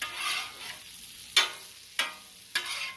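Onions frying on a hot griddle for smash burgers, a soft sizzle broken by three sharp scraping strokes of a spatula, spaced about half a second apart.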